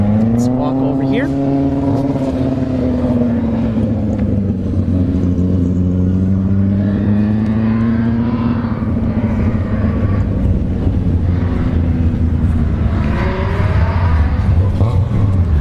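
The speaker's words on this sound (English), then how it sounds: "There's also drifting tonight too, so you're gonna hear some cars in the distance." Drift cars rev at Orlando Speed World on a no-prep drag racing night, their engines droning with rising and falling pitch in a continuous background growl beneath someone talking.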